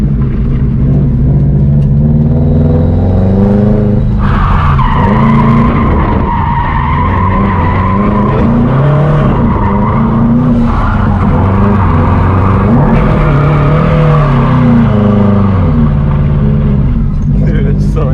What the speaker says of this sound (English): It's always a good day when we go out street drifting.